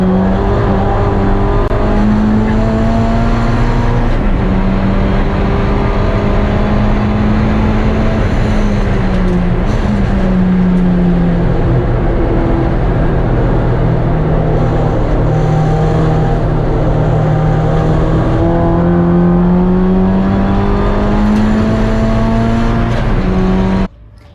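An unlimited-class time attack race car lapping Buttonwillow, recorded from inside the cabin: a loud, continuous engine drone that rises and falls with shifts and corners for the whole run, with no talking.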